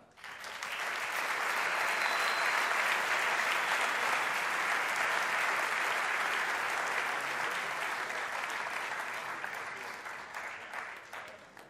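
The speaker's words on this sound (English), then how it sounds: "Huge round of applause, please." Sustained audience applause in a hall at the 2022 MotoGP awards ceremony, a dense close wash of clapping that swells quickly, holds steady for several seconds and slowly tapers off.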